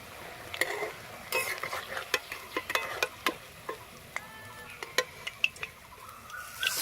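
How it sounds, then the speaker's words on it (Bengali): Helencha leaves coated in batter fry in hot oil, a steady sizzle broken by a dozen or so sharp clicks and taps of a utensil that quicken toward the end. Nobody speaks. "আমরা এখানে লম্বা লম্বা করে ভাজছি।"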